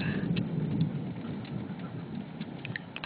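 Rain falls steadily in a storm with low rumbling thunder, a dense, noisy wash with faint thunder in the background and no talking.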